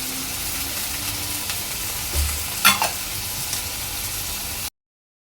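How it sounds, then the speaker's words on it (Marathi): Vegetables and sweet corn fry in hot oil in a pan, giving a steady close sizzle with a brief stirring scrape partway through; the sound stops short of the end. "तर ह्या भाज्या एक 5 मिनिटं चांगला शिजवून घ्यायच्या आहेत तेलावर।"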